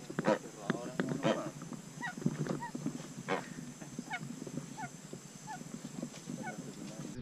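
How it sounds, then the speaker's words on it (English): A large bird honking repeatedly beside a boat on a hidden lagoon in the Amazon, with loud goose-like calls near the start and then softer spaced honks throughout, over steady rumbling background noise. "That is a crazy bird."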